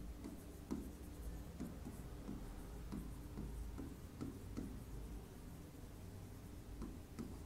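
Pen scratching out a written answer to a Class 12 chemistry board question, close and quiet, a soft steady scrawl with regular light taps as strokes begin, heard alone.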